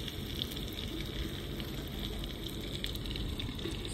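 Chicken and potatoes hit a hot handi and sizzle and fry. The hiss is steady and close, with bubbling crackle throughout and no talk.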